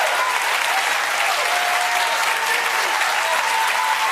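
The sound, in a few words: audience applause in a played TV clip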